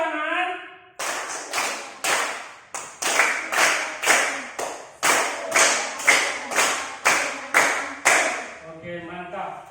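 A classroom of schoolchildren claps in a rhythmic patterned tepuk tangan, loud sharp bursts in steady groups that repeat for several seconds, with brief voices at the start and end.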